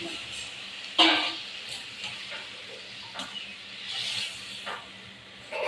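Water added to a hot pan of fried potatoes for a katla fish curry brings a rising and falling hiss and sizzle, broken by a few sharp clinks and stirring scrapes close by.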